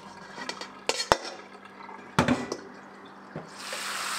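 Dishes clatter in a sink as they are rinsed under running water, with sharp clinks and knocks of crockery followed by the hiss of the tap near the end.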